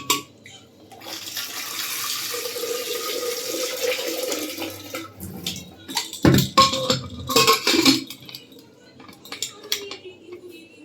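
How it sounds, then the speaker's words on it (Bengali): Two potatoes washed by hand under a running kitchen tap, steady water splashing into the sink for about five seconds, then softer clatter and rubbing as the potatoes are handled, with no one speaking. "দুটো আলু ভালো করে ধুয়ে"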